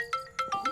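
A mobile phone ringtone plays a short, bright electronic melody of four quick tonal blips, clear and close with no voices over it.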